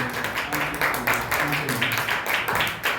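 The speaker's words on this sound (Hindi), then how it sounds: "ताली बजा के हम प्रभु के नाम को" A church congregation clapping together in steady, rhythmic unison during worship, a roomful of hands beating a regular pulse, with voices faintly present beneath the claps.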